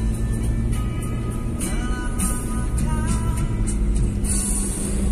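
A Toyota Kijang Krista fitted with a Blackcore upgrade accelerates in third gear from low speed, its engine drone steady and loud with a gradually rising tone under faint road and cabin noise.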